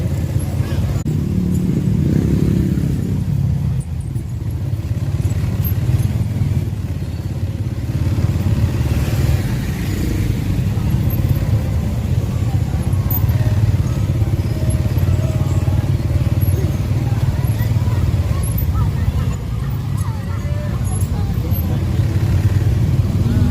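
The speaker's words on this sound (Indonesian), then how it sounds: "Masih macet, beberapa kendaraan tertahan." Congested street traffic in Bukittinggi, with motorcycle engines and cars idling and creeping close by in a steady, loud rumble, plus occasional clatter and thuds, and a faint murmur of voices mixed into the background.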